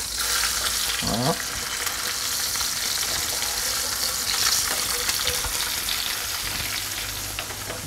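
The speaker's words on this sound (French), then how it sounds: "On va juste donner la coloration au poisson et après on terminera au four la cuisson des deux." Sea bass fillets sear in a hot frying pan, a steady close sizzle and crackle running throughout with a brief stir or scrape near the start; a voice speaks briefly.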